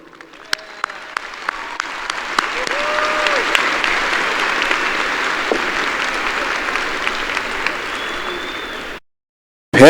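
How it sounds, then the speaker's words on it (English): A large audience at the Pebble Hills High School class of 2019 graduation applauds the board of trustees, a loud, steady wash of clapping that builds and holds for about nine seconds before cutting off abruptly. "So board members, please stand so that we can applaud you for all of your support."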